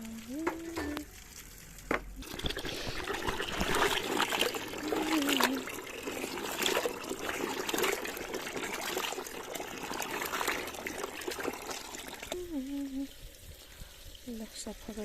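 Cassava is washed under a running water tap, a steady splashing stream that rises and continues for several seconds, with someone talking briefly at the start and end.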